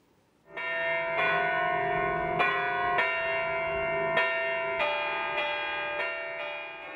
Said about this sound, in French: la cathédrale aura 8 nouvelles cloches